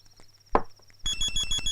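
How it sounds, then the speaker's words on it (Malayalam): Mobile phone ringing indoors in a comedy scene: after a quiet stretch and a single knock-like thump, a loud, repeating electronic ringtone starts and continues close by. "നിന്റെ ഫോൺ അടിക്കണേ."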